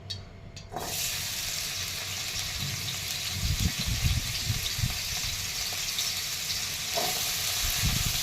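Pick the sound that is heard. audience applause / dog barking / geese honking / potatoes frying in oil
potatoes frying in oil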